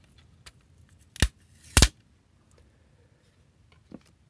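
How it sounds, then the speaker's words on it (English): A front cover being peeled off an LED lamp, heard as two sharp, loud close cracks and snaps in quick succession with a few faint clicks around them and no talk. "I could peel this off, and when I do peel it off, I'll discover there are no screws under it"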